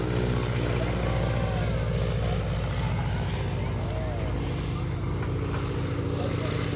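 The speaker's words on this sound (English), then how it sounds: "let's wave at Carol Pilon on the top wing of that 1940 Super Stereo." A 1940 biplane flies at an airshow with a wingwalker standing on its top wing, its propeller engine droning loudly and steadily throughout, with a voice speaking over a public address.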